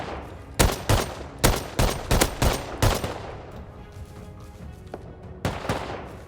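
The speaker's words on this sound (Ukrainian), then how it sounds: "По ним стріляють." Gunfire in the game Rust during a raid, in sharp repeated bursts: a cluster of loud shots early on, a quieter stretch, then a few more near the end.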